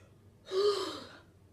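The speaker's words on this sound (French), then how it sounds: "Attends, j'ai envie de bailler." A single long, breathy yawn, close up, with a brief voiced tone in the middle before it trails off.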